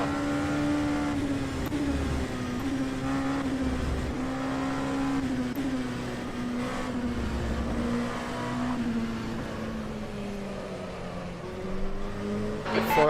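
A GTE race car engine drones steadily in rFactor 2 at Silverstone, its pitch rising and falling with gear changes as another car runs close by, continuous and fairly loud throughout.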